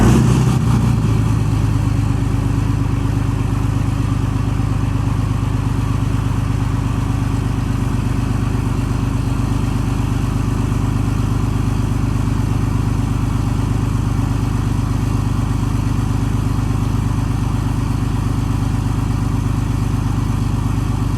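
A straight-piped diesel truck engine cold-starting in sub-freezing weather and settling into a high idle, a loud, steady throbbing rumble that runs unbroken and close after a rougher first couple of seconds.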